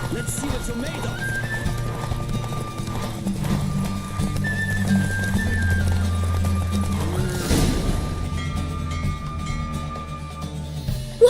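A galloping horse in The Witcher 3: Wild Hunt, with continuous close hoofbeats and a whinny partway through, set under game music and talk.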